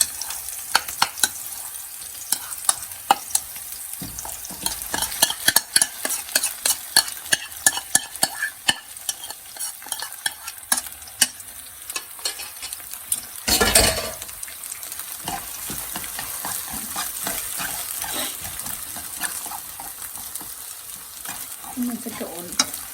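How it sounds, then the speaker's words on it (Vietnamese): Rice with crab sticks and fragrant onion stir-fried in a pan, a steady sizzle broken by frequent scraping and tossing clicks of the utensil, with one louder burst of clatter midway. "Mình sẽ trộn lên để cho nó chín đều nhé"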